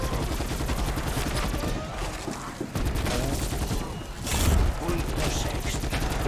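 Rapid bursts of gunfire crackle continuously, with a few louder booms mixed in, in a Call of Duty: Black Ops 4 Zombies firefight; faint voices blend into the dense noise.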